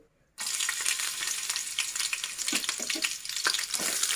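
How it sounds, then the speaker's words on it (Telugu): Green chillies drop into hot oil and fry with a sudden loud, crackling sizzle that keeps popping and spitting unevenly, close by and with no talking. "ఆయిల్ వేడైంది ఇందులోకి ఇప్పుడు పచ్చిమిర్చి"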